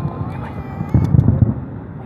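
Fireworks bursting at night near a 7-Eleven, heard as a cluster of muffled, low booms and crackles over about half a second, moderately distant, with faint voices in the background.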